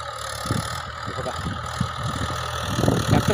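A new tractor engine idles with a low, steady, throbbing chug that grows slightly louder toward the end, heard up close.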